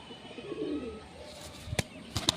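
Pigeon cooing in a loft of fancy pigeons, a red-bellied bird among them, with soft low murmurs at the start and then a few brief, sharper calls and rustles toward the end, fairly close.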